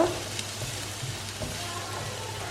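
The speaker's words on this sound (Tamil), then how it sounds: "ஸோ இந்த பொடியை போட்டுட்டு வதக்கி விடுங்க நல்லா" Spice powders, including garam masala, sauté in a pan for masala pasta, making a soft, continuous sizzle with faint stirring sounds over a couple of seconds.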